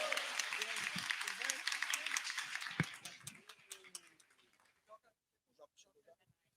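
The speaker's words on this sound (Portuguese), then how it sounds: "Palmas para ele aí, pessoal." Applause from an audience at a community communications event in the favelas: a dense burst of clapping that thins to scattered claps over a few seconds and then fades, with a few voices mixed in.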